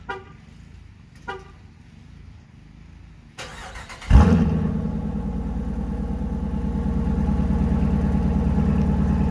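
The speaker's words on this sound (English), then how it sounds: "Here's a cold start of the Borla Catback Exhaust System on a 2019 Dodge Durango." A pair of short chirps, then the starter cranks and a 2019 Dodge Durango R/T engine cold-starts with a loud rev and settles into a deep, rumbling idle through a Borla cat-back exhaust.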